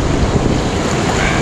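Stormy surf breaks on Aquamarine beach in Vityazevo, Anapa, as a loud, continuous, close roar of churning water mixed with buffeting wind noise on the microphone.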